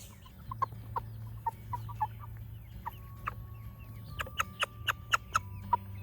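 A chicken being moved to a new coop clucks in short, sharp bursts, sparse at first and then quicker toward the end, over a low steady background hum.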